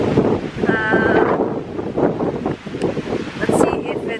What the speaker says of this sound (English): Super windy at the view deck area